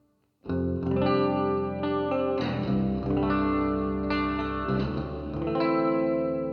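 Sustained chords on a 30-inch G4M 638 electric baritone guitar, bridge pickup, ringing out with a clean, bright tone and reverb, several strums blending into one another.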